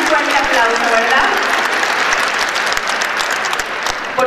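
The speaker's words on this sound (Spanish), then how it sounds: "Desde aquí le mandamos un fuerte aplauso" Audience applause at a local event in San Miguel de Allende, a steady, loud round of clapping lasting several seconds with some voices mixed in.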